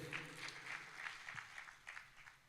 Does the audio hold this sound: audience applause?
yes